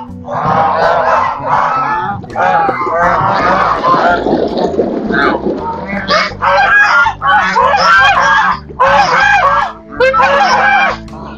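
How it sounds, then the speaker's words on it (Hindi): Turkeys and guinea fowl, also called Chinese hens, call from a farm cage. The clucks and honks are loud and close, come in dense repeated bursts, and carry on throughout with little pause. "और आपको दिखाते हैं चल के टर्कियां और जेनिफॉल जो हमारे पास खड़ी है"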